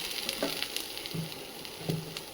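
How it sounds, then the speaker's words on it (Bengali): Coriander and cumin powder fry in a pan with a steady soft sizzle, broken by a few brief scraping stirs to keep the spices from sticking. "ধনে গুঁড়ো জোড়াগুলি যাতে লেগে না যায় এই জন্য একটু নাড়াচাড়া করে নিচ্ছি"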